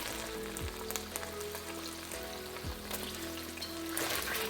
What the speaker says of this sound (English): The prawns are cooking nicely, so next we'll add in the carrots.